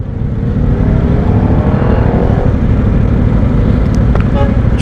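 Road traffic in a long jam in Bataan, Philippines: a loud, continuous rumble of engines close by, with a brief car horn toot near the end.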